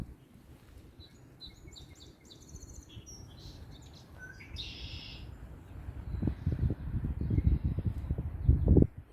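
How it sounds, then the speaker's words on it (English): Birds sing and chirp along a lakeside trail on a cool, rainy spring morning, bright calls scattered through the first half over soft outdoor ambience, with louder rustling and handling noise building near the end. "You can hear the birds in the background."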